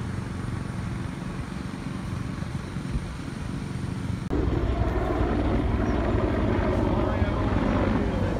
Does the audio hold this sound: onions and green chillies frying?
no